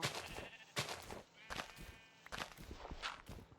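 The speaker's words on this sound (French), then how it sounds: "Ah, yes, un nouveau mouton." Minecraft sheep bleat a few times amid blocky footsteps, fairly close and moderately loud, with short bursts spaced through the scene.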